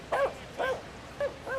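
Dogs bark on a baseball field during a pregame delay, giving four short, close barks in an uneven rhythm, with no talking.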